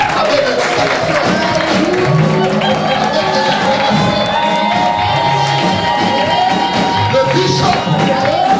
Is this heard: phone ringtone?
no